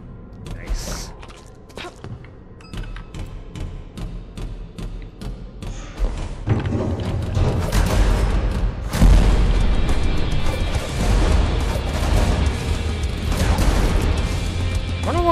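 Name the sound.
explosive chakrams sticking and exploding, from video game Nightmare Reaper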